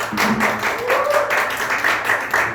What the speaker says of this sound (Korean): 우리 친구 박수 한번 쳐줄까요?